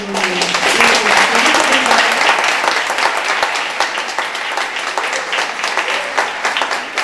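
An audience at a lecture on Indigenous school education gives a loud, sustained round of applause with dense overlapping claps and a speaking voice briefly at the start.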